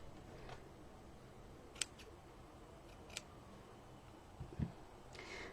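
Scissors snip ribbon bow tails on a card, a few quiet, sparse clicks spread out over a faint background, one softer knock near the end.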